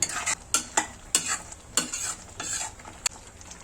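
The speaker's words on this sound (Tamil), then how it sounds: "மிதமான தீயில் வச்சு நல்லா கிளறிக்கோங்க" A spoon scrapes and stirs through ginger tamarind pickle frying in a pan over medium heat, with about eight sharp strokes over a soft, continuous sizzle.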